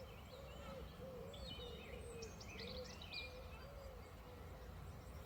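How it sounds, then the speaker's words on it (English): Blackbirds warble and wood pigeons coo in a park at dusk, a soft repeating coo under scattered fluttering birdsong over a steady background hum. "Can you hear the birds tweeting, blackbirds, wood pigeons?"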